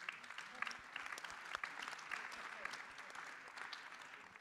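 An audience at a political congress applauds steadily for several seconds, a dense patter of many hands clapping at moderate distance with no speech over it.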